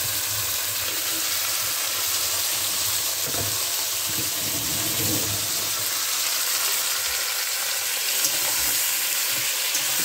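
Chicken pieces fry together with already-fried onions in a pan, giving a steady, close, dense sizzle with occasional stirring scrapes and no talking.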